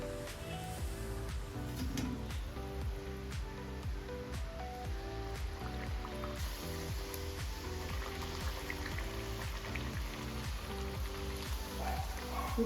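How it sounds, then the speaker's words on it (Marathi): Sweet jaggery puris fry in hot oil with a steady, even sizzle and crackle that continues unbroken, with light rhythmic tapping underneath. "आपण सर्व पुऱ्या आहे ना तळून घेऊ"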